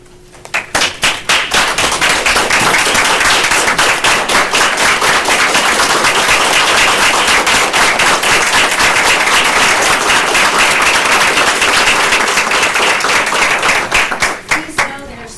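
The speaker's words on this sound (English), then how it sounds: "please stand for a brief round of applause for our amazing educational staff" Loud, sustained applause from a large crowd at a school board meeting, dense clapping filling the room without a break, fading out at the very end.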